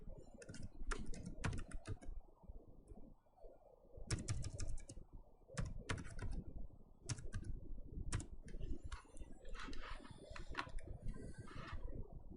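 Keys clatter on a computer keyboard as a file name is typed, in quick bursts of tapping separated by short pauses, close and clear with no talking.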